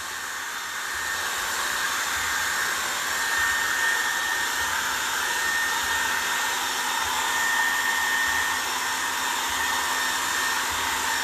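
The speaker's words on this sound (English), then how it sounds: "the hair blow drying stage?" A hair dryer blows steadily and continuously to dry a cotton painting project, with a loud, even whoosh that runs unbroken from start to finish and no voices.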